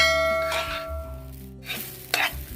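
Veg fried rice tossed and stirred in a pan over a high flame, with continuous sizzling and scraping stir strokes, loud and close.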